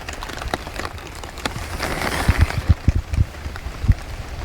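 Rain falls on a riverside camp with a tarp overhead. A soft, steady patter is close by, broken by scattered louder drops hitting the surface, irregular and faint, with no talking.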